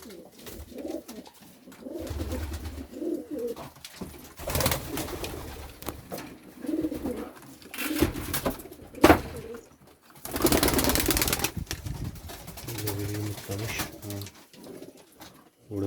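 Pigeons coo repeatedly at close range during an evening feeding in a loft, with brief bursts of wing flapping and someone talking intermittently over the birds.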